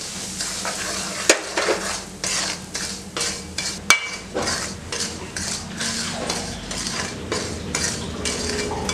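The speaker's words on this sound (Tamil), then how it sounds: "இப்போ நான் 1 கப் அளவுக்கு ரவை எடுத்து வச்சுருக்கேன். இந்த நெய்லேயே வறுத்து எடுத்துக்கலாம்." Semolina (rava) is stirred and roasted in ghee in a pan, with a steady low sizzle under repeated scraping strokes of a spoon and two sharp metallic knocks against the vessel.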